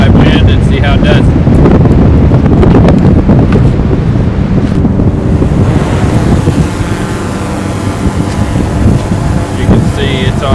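High wind buffets the microphone in a park during a DJI Mavic Pro Platinum drone wind test, a loud, continuous rumbling roar that gusts and eases without letup, with a voice briefly heard under it.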